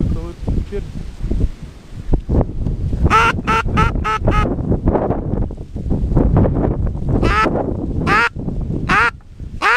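Loud, repeated electronic duck-call quacks from a speaker, in short bursts, ring out over wind buffeting the microphone and rustling during a duck hunt, with people talking intermittently.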